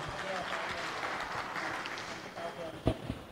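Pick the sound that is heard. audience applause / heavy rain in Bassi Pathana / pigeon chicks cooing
audience applause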